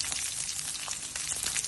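Shallots, dried red chillies and curry leaves sizzle in hot oil for a tempering, a steady close crackle with scattered pops throughout.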